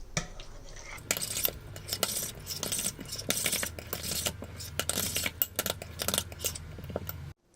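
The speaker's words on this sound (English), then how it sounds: "Now I'm just going to give this a really good mix to make sure that all the ingredients have been thoroughly combined." Egg salad ingredients being stirred in a bowl with a utensil, giving a steady run of close scraping, clinking and rubbing strokes that carries on for several seconds with no talking.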